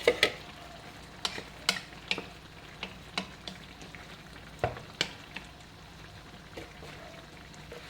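Milkfish (bangus) fries in a pan, with a soft steady sizzle broken by sharp intermittent pops and crackles, close and fairly quiet with no talking.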